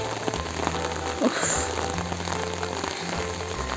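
Heavy rain pours down at Baijnath temple, a dense steady hiss of drops hitting the ground and surfaces close by, continuous and loud throughout with no talk.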